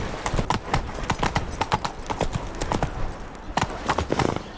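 Geralt's horse Roach in The Witcher 3: Wild Hunt, steady clip-clop of hooves at a brisk pace, close and prominent, with faint background ambience and no talking.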